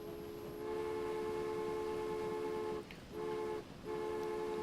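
A train in the railway game Transport Fever pulls out of its depot, a steady rail hum with sustained tonal whistle-like drones that briefly drop out twice before resuming, loud and close.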